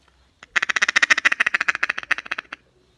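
A rapid, rhythmic run of about twenty duck-like quacking pulses from a wildfowling duck call imitating feeding chatter, loud and close, lasting around two seconds before stopping.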